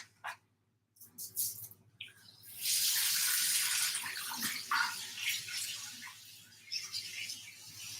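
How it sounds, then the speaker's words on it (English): Tap water running steadily into a kitchen sink while hands are washed, a strong hiss rising after a few clicks and bumps and continuing with small splashes. "I'm gonna wash my hands."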